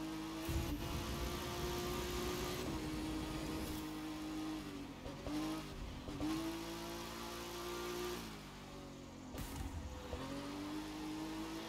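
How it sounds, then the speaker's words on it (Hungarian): Engine noise in The Crew 2 as a bus passes by, a steady mid-pitched motor drone with shifting revs and a couple of brief dips, fairly quiet and without talk. "Az egy busz volt."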